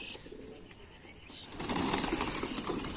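A white pigeon near a house bursts into wing flaps partway through, a fluttering rush that rises from quiet surroundings and stays close for the last second and a half.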